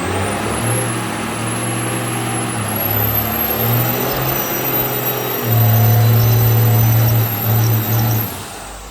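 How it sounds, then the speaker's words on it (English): A truck out on a test drive after axle maintenance, its engine holding a steady loud drone with a deeper rise in pitch partway through, heard close and continuous with no talking. "when we took Shay's truck out, we had to see if it was working okay."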